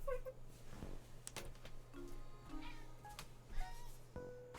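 Several soft, short cat meows come from close by in a quiet indoor room, spaced irregularly over a low steady hum, with faint tonal chirps between them.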